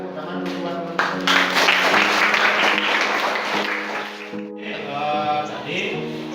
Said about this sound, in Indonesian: Oke, kasih tepuk tangan dulu teman-teman.